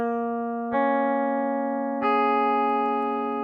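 A clean guitar with no effects, time-stretched in Cubasis 3, plays three long, sustained notes in turn. Each rings with a rich, buzzy, slightly artificial tone, and a sharp attack marks each change.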